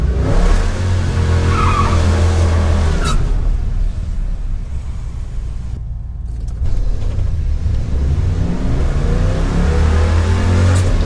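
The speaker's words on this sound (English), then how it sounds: "we'll do a little burnout anyway" A car on a drag strip with limited-slip rear gears spinning its tires in a burnout, a loud sustained engine roar and tire screech close by, dipping briefly midway before surging back.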